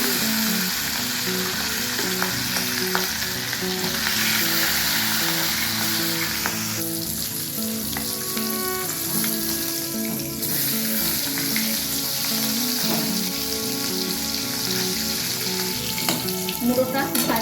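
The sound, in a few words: fish head frying in hot refined oil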